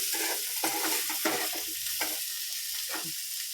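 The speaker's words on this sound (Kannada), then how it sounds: "ಇದನ್ನು ಮಾತ್ರ ಒಂದು 2 ನಿಮಿಷ ಫ್ರೈ ಮಾಡಿ" Cassava frying with garlic and pepper in a pan, a steady broadband sizzle with repeated stirring scrapes and clatters throughout, close and continuous with no voices.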